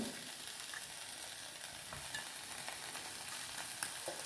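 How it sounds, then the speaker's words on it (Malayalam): Lemon-marinated chicken fries in a pan with a continuous, even hiss and faint crackle, quiet and unbroken, with no voices. "ചിക്കനാണ് ഇപ്പോൾ നമ്മളിതിലേക്ക് പറക്കിയിടുന്നത് കേട്ടോ"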